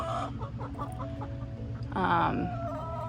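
Chickens cluck softly in short bursts, with one louder squawk partway through, over low background noise.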